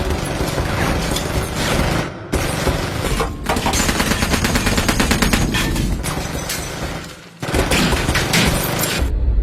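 Rapid bursts of automatic gunfire and gunshots in an action scene from the 2021 film Copshop, loud and dense, broken by two short pauses before the firing resumes.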